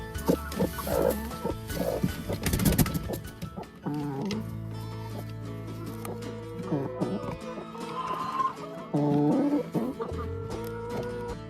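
Chickens cluck and squawk in a barnyard mix of animal calls, including a horse whinny and shuffling hooves, with no talking.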